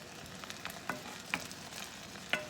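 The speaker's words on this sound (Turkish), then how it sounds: "Her iki tarafını da çevireceğiz ve kızartacağız arkadaşlar" Diet vegetable gözleme frying in a pan, a soft even sizzle broken by a few light spatula taps and scrapes.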